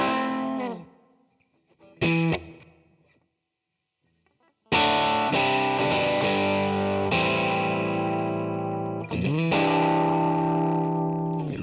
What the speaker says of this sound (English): start to use all of the other high-end effects, EQ, compressor, etc., you can really start to mold that sound exactly as you want